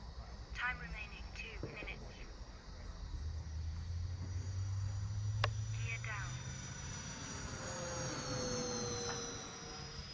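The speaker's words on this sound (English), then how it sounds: "I'm gonna do a gear pass." An E-Flite A-10 model jet makes a low gear-down pass at dusk, a steady turbine whine swelling as it flies by at a distance, with people talking and radio-like voices over it.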